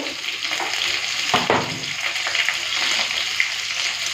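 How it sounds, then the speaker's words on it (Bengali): Bitter gourd, potato and eggplant frying together in a pan with salt, a steady sizzle running throughout with a brief louder stir or clatter near the middle. "পরিমাণ মতো নুন উচ্ছে আলু আর বেগুনটাকে একটু লাল করে ভেজে নিই"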